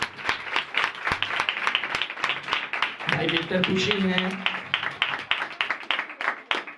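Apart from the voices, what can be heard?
audience applause for speaker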